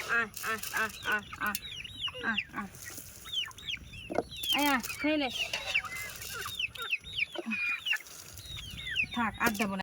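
Muddy chickens cluck and squawk repeatedly at feeding time in a Sundarbans yard, a busy chorus of close calls with a person talking among them.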